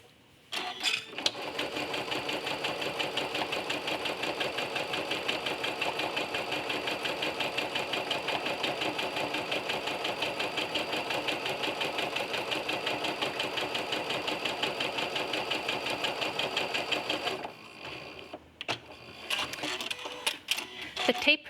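A sewing machine with a walking foot stitches a quilt along a tape guide, running in a steady, fast, even rhythm for about seventeen seconds before stopping, followed by a few soft handling clicks.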